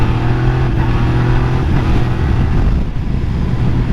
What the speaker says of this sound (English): the bad part is this bike wants you to be like full throttle when you're wanting to do that.